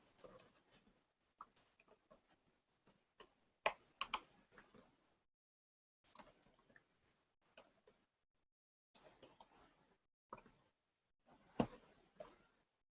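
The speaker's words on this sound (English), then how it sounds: "So I'm gonna start typing now." Soft, close clicks of a computer keyboard come in irregular bursts separated by short quiet pauses, quiet taps with no talking.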